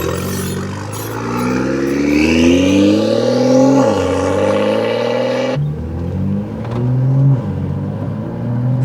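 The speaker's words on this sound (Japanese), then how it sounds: "さあ現魔王が仕上げた BMW M2 ね、これがね直6ターボで420馬力あります。" A tuned BMW M2 with a 420-horsepower inline-six turbo engine and Nitron dampers revs up in rising pulls on a mountain pass, then drops pitch at each gear change, loud and steady from inside the car.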